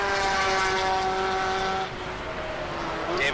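Race car at a speed ring sweeping through a long corner near the announcement booth, engine tone holding steady and loud, then easing off as it passes, with a second car briefly audible at the end.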